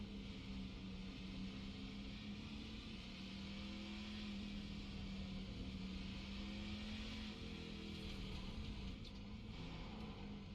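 A Toyota truck engine drones through a lap at Mid-Ohio in a racing video game, a steady, fairly faint hum with slight pitch rises and dips and no talk.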